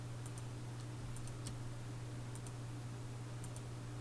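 A computer mouse clicks faintly while embroidery applique designs are digitized in software, several light, irregular taps over a steady low electrical hum with no talking.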